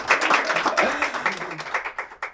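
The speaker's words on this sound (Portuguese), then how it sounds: "Palmas" An audience claps together at a live storytelling event, a dense, brisk patter of many hands lasting a couple of seconds, with voices mixed in underneath.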